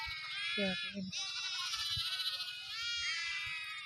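Several goats bleat in high, wavering cries that overlap and continue in a farm field, with a brief low voice in between.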